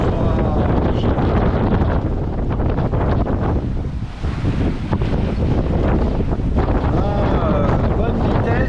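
Strong squall wind roars steadily across the microphone aboard a sailboat off Guadeloupe, a dense buffeting rush with water noise beneath, loud and continuous with only a brief dip midway.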